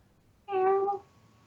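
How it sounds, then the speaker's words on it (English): A house cat gives a single clear, drawn-out meow of about half a second, fairly close, against a quiet room hum. "And apparently there was a cat noise in background."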